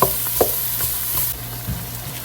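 Onions sizzle in a hot pan while being stirred, a continuous close frying hiss broken by several scraping and clinking spoon strokes, with no voices.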